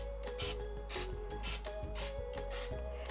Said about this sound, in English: take a 12 cup muffin pan and lightly spray that